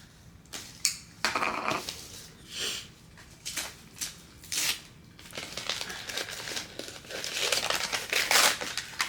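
Rustling, crinkling plastic and paper as a blade cuts open book-subscription packaging, in uneven bursts of slicing and tearing at close range, with no talking.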